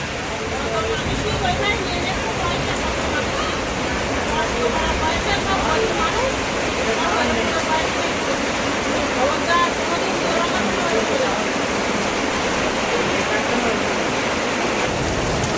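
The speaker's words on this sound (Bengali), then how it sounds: "আর যত রাত হচ্ছে তত কিন্তু বৃষ্টির জোরটাও বাড়ছে" Heavy rain pouring at night during a storm, a dense steady hiss throughout with faint background voices mixed underneath.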